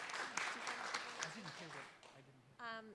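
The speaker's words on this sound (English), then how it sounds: "So can we give her a round of applause?" Applause from an audience at an allyship talk rises under ongoing speech and murmuring, fairly close and moderate in level, with a voice speaking over it before a brief tonal sound near the end.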